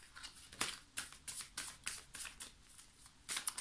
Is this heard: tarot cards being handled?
yes